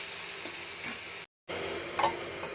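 Ridge gourd stirred with turmeric in a frying pan, a steady close sizzle with occasional spoon scrapes, broken by a short silent gap.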